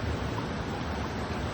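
Palasdari waterfall pours in a steady, dense roar of falling water, an unbroken broadband wash heard up close with no voices over it.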